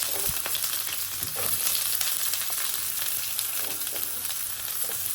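Chopped onion and green chilli fry in mustard oil with a steady crackling sizzle, joined by occasional scraping stirs and clinks, and no talking.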